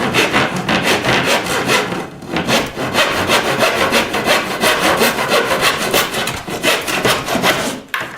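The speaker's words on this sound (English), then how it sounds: "I'm going to take a miter saw, straight edge miter saw, and I'm going to cut away a piece of this casing right here" A straight-edge miter saw cuts through wooden door casing in a garage, giving loud, close, rhythmic rasping strokes that repeat steadily with brief pauses between them.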